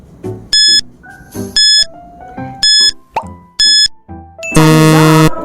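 A quiz countdown timer plays a sequence of bright electronic beeps and plopping tones in a regular pattern, ending on a longer, louder sustained buzzer chime.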